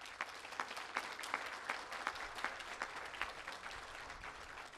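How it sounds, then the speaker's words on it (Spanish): Applause from an audience at a Colombian presidential contract-signing ceremony, a quiet, steady patter of many hands clapping in a hall throughout, with no talk over it. "merece un aplauso muy importante"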